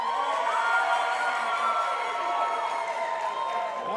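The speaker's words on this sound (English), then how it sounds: "it's up to your applause who wins" A studio audience on The Lonnie Hunter Show cheers and whoops loudly to vote for a contestant, with sustained shouting and clapping that stays at full strength throughout.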